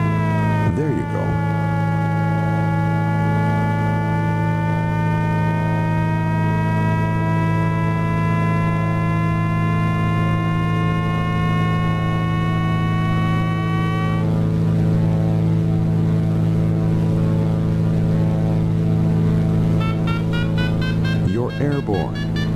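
A glider variometer's steady electronic tone slowly climbs in pitch over a loud, constant tow-plane engine drone in Flight Simulator X, cuts off, then a warbling tone returns near the end.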